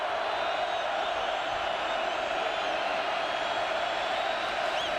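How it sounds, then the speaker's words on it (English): A big football stadium crowd at Oklahoma roars steadily as the home fans try to rouse their defense, a constant wall of cheering from start to finish. "Crowd trying to get the defense into this."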